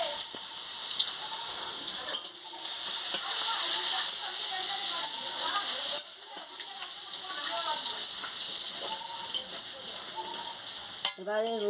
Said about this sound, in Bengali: লঙ্কাটা ভাজা হয়ে গেছে, এবারে রসুনটা দিয়ে দিচ্ছি।